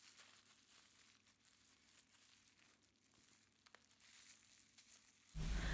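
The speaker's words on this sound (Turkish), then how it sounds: "ve bu şekilde vakumluyoruz." A plastic bag holding fresh okra crinkles softly as air is sucked out of it by mouth, a steady low rustle through most of the clip, then a louder, fuller burst of noise at the very end.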